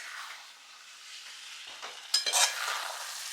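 Milk being stirred in a pan while it reduces for making naru, soft scraping and faint sizzling with a couple of sharper scrapes of the spoon near the end, no talking.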